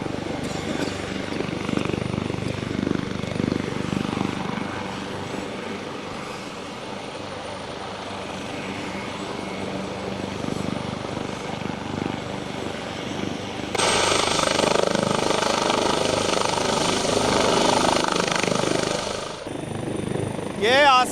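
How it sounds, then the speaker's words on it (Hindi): A Pakistan Air Force helicopter roars loudly and continuously with a dense rotor and engine drone that grows brighter and louder partway through, as if it lifts off or passes close. "ये आसमान को छूने के लिए इस हेलीकॉप्टर ने परवाज ये कर चुका है।"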